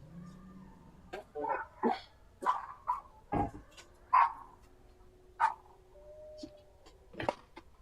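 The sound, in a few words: dog barking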